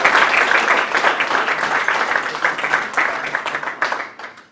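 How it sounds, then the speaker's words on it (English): An audience at a men's soccer team awards banquet applauds steadily, a dense wash of clapping from many hands that holds for several seconds and then thins out at the end. "let's give those guys a round of applause"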